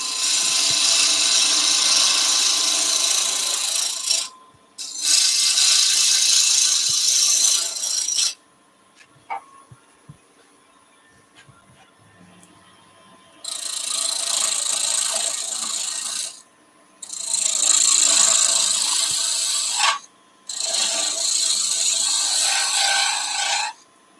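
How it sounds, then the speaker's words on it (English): A sharp bowl gouge cuts wood on a lathe while turning a thimble, giving loud, steady rasping cuts in several long passes separated by quieter pauses with faint handling noises. "I'm going to go to a sharper bowl gouge."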